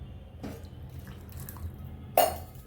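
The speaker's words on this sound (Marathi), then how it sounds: "तर गरम पाणी घालते." Hot water is poured into a pan of methi malai matar curry, giving a short watery splash and trickle at close range that ends with a brief louder spill. The kitchen is otherwise quiet.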